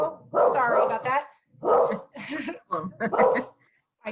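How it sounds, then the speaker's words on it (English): Dog barking indoors in repeated loud bursts with short pauses between them, close to the microphone, with speech also present. "My dog gets activated by lots of things going by."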